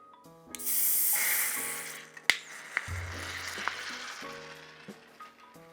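Warm Guinness stout poured into a saucepan gives a bright fizzing hiss that swells and then fades, followed by a few small clicks and taps from the pan and kitchen.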